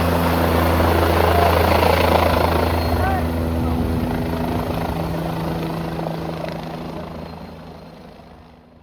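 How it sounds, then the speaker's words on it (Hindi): A helicopter passes over the Prayagraj Maha Kumbh grounds on Mauni Amavasya, its rotor thump and engine loud at first and then fading steadily into the distance as a voice talks over it. "उनका निरीक्षण करते आसमान से एक हेलीकॉप्टर गुजर जाता।"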